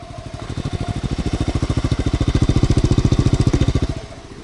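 A 1986 Honda Z50R small motorcycle engine runs up close with a fast, throbbing putter, swelling slightly louder before dropping off near the end.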